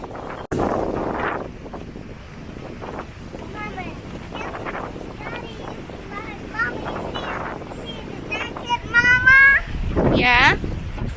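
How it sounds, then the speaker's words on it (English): Strong wind gusts outdoors by a swimming pool, rumbling and buffeting steadily under people talking, with a higher voice chiming in near the end. "Wow, so windy."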